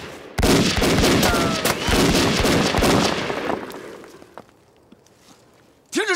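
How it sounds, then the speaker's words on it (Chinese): A Chinese war drama battle scene is dominated by a loud, dense volley of rifle and machine-gun fire for about three seconds, then it thins out and fades to near quiet before a short sharp sound at the end. "停止射击！"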